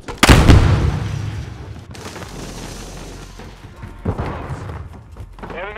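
Stun grenade detonating in the video game Modern Warfare 2 multiplayer, a sharp loud bang followed by a ringing, muffled tail that fades over several seconds, with a smaller thump later.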